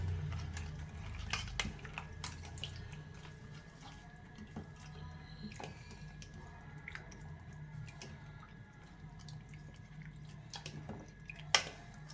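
Soft, wet squishing and mashing of wood apple pulp in water in a bowl, with occasional light clinks and drips, fairly quiet and irregular.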